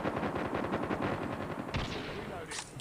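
Rapid automatic gunfire crackles through a firefight on the Crash map in Call of Duty Mobile, dense bursts rattling continuously with a brief louder shot near the end, loud and close.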